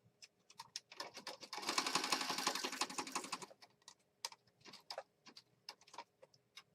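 A sewing machine stitches around the outside edge of a fabric piece in a quiet room, one steady burst of rapid whirring stitches lasting about two seconds, framed by scattered soft clicks and taps before and after.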